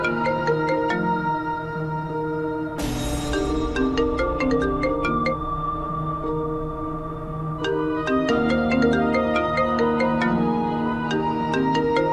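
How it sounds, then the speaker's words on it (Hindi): A melodic electronic phone ringtone plays repeatedly, a bright chiming tune that loops with a brief pause, loud and continuous with no voices. "दानी फोन रिसीव नहीं कर रही है।"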